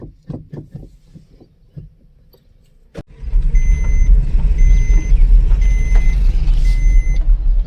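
A car eases slowly between two stones as the clutch is let out: soft knocks at first, then a sharp thump and a loud, rumbling low engine drone with faint high beeps over it, no talking.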